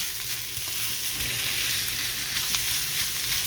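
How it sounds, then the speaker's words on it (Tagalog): Ground pork sautéing in a home pan gives a steady, close, continuous sizzle and crackle with faint stirring scrapes throughout, no voices. "Isahin natin ang ating ground pork."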